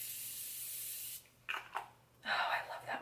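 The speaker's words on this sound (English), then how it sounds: "I'm going to go in with my Morphe Continuous Setting Mist." A Morphe Continuous Setting Mist spritzes in a steady hiss for about a second, then quiets, followed by a few short, softer bursts of spray.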